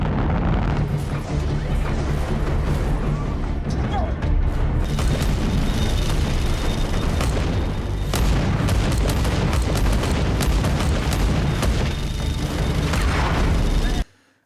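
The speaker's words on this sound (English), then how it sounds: "The Zamea fires missiles and the Rocinante goes into battle mode with guns ablazing." Space battle in The Expanse as the Zmeya fires missiles and the Rocinante answers with its guns: a dense, continuous wall of booming blasts, rapid gunfire and heavy rumble, loud and close throughout before cutting off abruptly.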